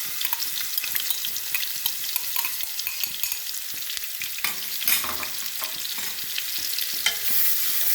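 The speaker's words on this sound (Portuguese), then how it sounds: "Agora a gente entra com a cebola picada." Chopped onion sizzles in a pan with seared pork, a constant crackling fry broken by scraping stirs, near and moderately loud with no talking.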